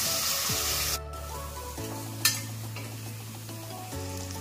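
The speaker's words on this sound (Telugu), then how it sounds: "కొద్దిగా అల్లం వెల్లుల్లి పేస్ట్, అల్లం వెల్లుల్లి పేస్ట్ కూడా బాగా వేయించుకోవాలి." Ginger-garlic paste fries with onions in a pan for egg biryani, a soft sizzle with stirring scrapes and one sharp clink of the spoon against the pan.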